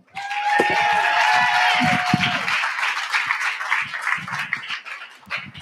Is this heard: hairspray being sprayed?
no